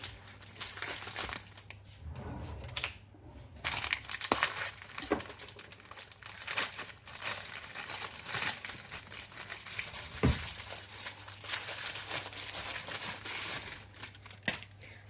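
Close, steady crinkling and rustling of a plastic-wrapped pastry packet being handled and torn open, with no one talking.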